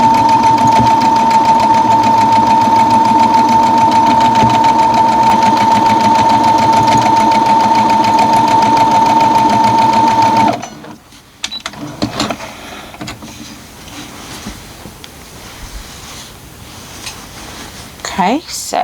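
A sewing machine runs steadily for about ten seconds, stitching quilt seams with a loud, close, rapid mechanical whir and a constant whine, then stops and leaves quieter handling sounds and rustling.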